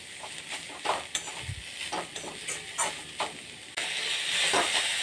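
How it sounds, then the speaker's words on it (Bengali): Grated beetroot fries over a low flame in a pan, a steady hiss and sizzle broken by repeated scraping strokes of the spoon against the metal, close and with no talking. "এবার বিটটাকে একটু আমি ভাজা করবো হালকা আঁচে আস্তে আস্তে"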